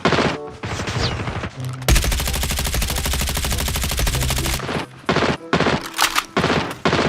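Rapid automatic gunfire from the mobile video game Call of Duty Mobile rattles in dense, sustained bursts, then breaks into shorter choppy volleys with brief gaps, loud and up front.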